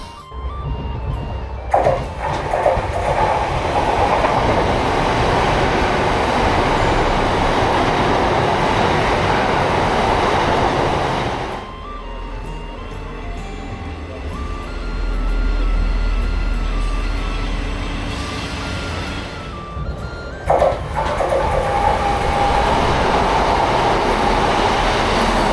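Train wagons rumble and clatter steadily with rhythmic clicks of wheels on track while crossing the Forth Bridge, loud and close from inside, dropping briefly before rising again.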